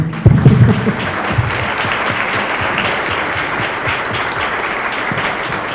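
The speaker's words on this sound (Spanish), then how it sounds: "Pues yo creo que se merece otro aplauso" Sustained applause from a conference audience, steady and dense throughout, with a brief louder swell at the start.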